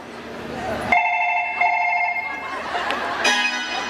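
A telephone rings in repeated electronic bursts, loud and close, with faint background chatter between the rings, at a live game-show event in Aundh, Satara.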